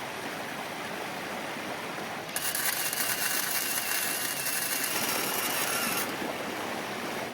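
Welding bolts onto an off-road Toyota Prius, a bright crackling buzz that starts suddenly, holds steady for about four seconds over outdoor background noise, then stops.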